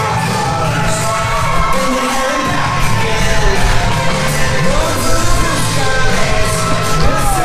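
A large crowd at a televised Zero One Supreme event roars continuously, with yells, whoops and shouts rising and falling in a dense, loud wash.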